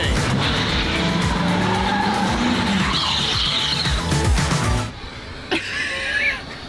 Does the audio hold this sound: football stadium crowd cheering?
no